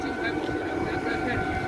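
A PP Tze-Chiang express train, service 175 from Hualien to Chaozhou, passes close by at the Fengjia Road level crossing in Ruifang, making a loud continuous rumble with steady sustained tones while people talk nearby.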